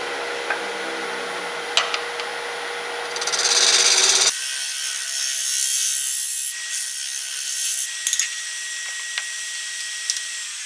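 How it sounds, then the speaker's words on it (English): Bowl gouge, 5/8 inch, hollowing an offset wooden candy bowl on a wood lathe, giving a steady close rasping cut that swells and changes tone partway through, with occasional sharp knocks, no speech. "I'm going to start hollowing it out now. Hollowing the bowl out, that is. I'm going to use a 5/8 bowl gouge to start with."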